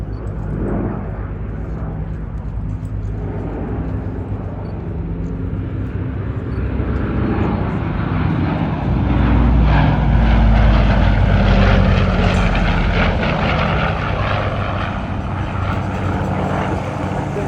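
Douglas DC-6B propeller airliner flying past at Duxford, a steady broad piston-engine drone and propeller roar that swells louder toward the middle of the pass and stays strong, with no talk over it.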